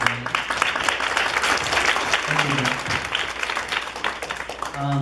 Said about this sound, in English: let's give a round of applause for these